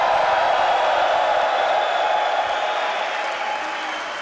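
A large crowd at an esports grand final in Cluj-Napoca, Romania, applauds and cheers in a steady, dense roar that fills the whole stretch and eases off only slightly toward the end.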